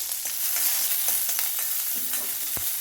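Dried red chilies, garlic, green chilies and peanuts sizzle and crackle in hot oil in a pan, with a steady frying hiss and a few sharp stirring scrapes, close and loud with no voices.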